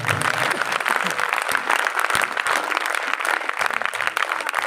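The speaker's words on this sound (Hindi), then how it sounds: "अगर आए हैं तो जोरदार तालियां बजाएं" A congregation at a Hindi Sunday church service bursts into loud, sustained applause, a steady roar of many hands clapping at once, with faint voices mixed in.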